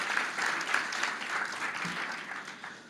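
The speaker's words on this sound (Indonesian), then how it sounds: "Sekali lagi, kasih tepuk tangan buat Tuhan." A church congregation at a Christmas service claps together in a dense, steady round of applause that holds strong and then tapers slightly toward the end.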